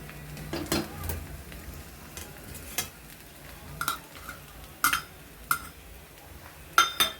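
Poha stirred with chopped coriander in a pan: quiet scraping and stirring with several sharp clinks of a spoon against the metal, irregularly spaced, no talking.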